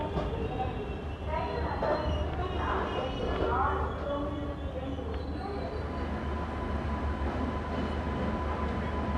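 Train at a station with the Hazrat Nizamuddin–Bangalore Rajdhani Express Special standing alongside: a steady low rail rumble under someone talking, with light clatter in the background.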